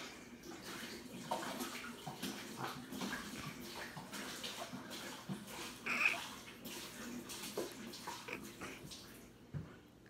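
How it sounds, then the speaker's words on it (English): Water dumped into a kitchen sink pours and splashes steadily for several seconds at close range, with a brief louder surge midway, and no speech over it. "Dumping water into the sink."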